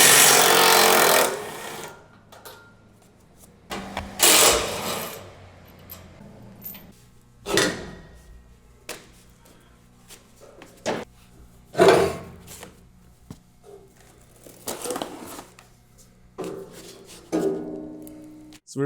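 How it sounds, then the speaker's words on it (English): Hand tools working on a Handle It Model 1200UL unit as its fork pockets come off with 13 mm and 17 mm sockets: intermittent metallic clanks and ratcheting bursts separated by quieter pauses, close by with no talking. "we can remove these fork pockets using a 13 millimeter and a 17 millimeter socket"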